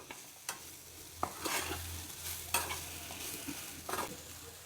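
Cluster beans poriyal with grated coconut being sautéed on a low flame, a soft steady sizzle with intermittent scraping stirs of a spatula in the pan, close and moderately quiet with no talking.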